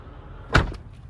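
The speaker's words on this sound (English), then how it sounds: "you press the top button and it all should shut together" A single solid thud as the split tailgate of a Range Rover L405 4.4 SDV8 shuts, a short close impact with a brief mechanical settle afterward, heard alone.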